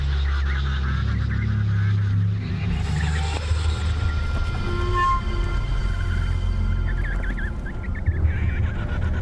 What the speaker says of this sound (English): A threat call alerts the colony to the danger.